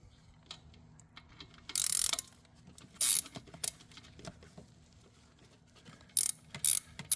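A ratchet clicks in short, sharp bursts as a 13 mm alternator plug bolt is worked loose on a Mazda RX-8 Shinka engine, close up, with quieter fiddling between the bursts.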